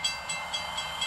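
A train passes in the Taxi Run mobile game, a brief steady rumbling roll with faint rhythmic clicks as the cars go by.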